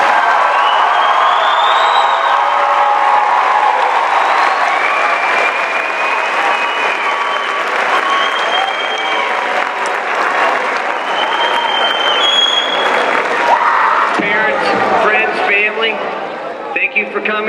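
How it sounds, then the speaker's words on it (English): Loud, sustained applause and cheering from a large crowd for the graduating class of 2016 at a GW graduation ceremony, continuous throughout with scattered whoops rising above the clapping. "Let's have another round of applause for the class of"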